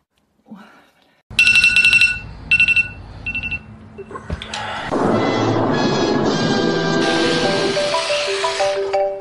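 A phone ringtone sounds close and loud, first as a few sharp electronic rings, then as a sustained melodic tone that keeps playing at full volume.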